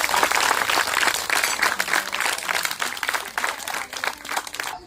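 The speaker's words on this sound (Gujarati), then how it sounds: "એમને તાળીઓથી વધાવીએ." A room full of people clapping steadily for a speaker after a talk, at a blacksmith's fabrication workshop, dense and even throughout with no voices over it.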